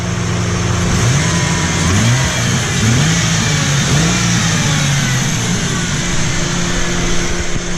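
A 2000 Ford Mustang V6 engine with a cable throttle is revved repeatedly, each blip rising and falling over a steady loud idle, close up and with no talk.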